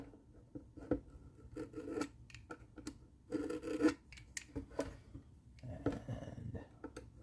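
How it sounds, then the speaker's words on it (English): A utility knife blade shaves mold flash off the end of a ukulele kit fretboard, giving repeated close rasping, scraping strokes in uneven bursts with no talk. "I'm seeing a little mold flash here on the end, so I'm going to trim that. Just use the blade of my utility knife."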